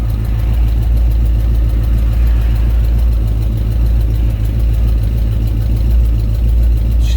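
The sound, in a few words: car engine idling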